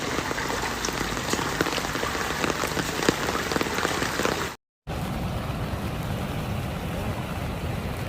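Heavy rain pours steadily during flooding in Liaoning, China, a dense continuous roar of drops striking surfaces, loud and close, with a brief cut to silence midway before the downpour resumes.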